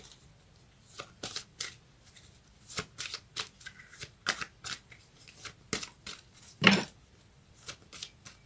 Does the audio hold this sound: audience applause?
no